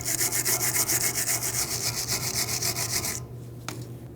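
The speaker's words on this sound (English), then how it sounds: "I just want to get rid of all of the debris that's here, as well as the rust" Rust and debris being scrubbed off rear brake parts of a 2016-2022 Mercedes-Benz GLC300, a loud steady rhythmic rasping of fast back-and-forth strokes that stops abruptly near the end, followed by a single faint knock.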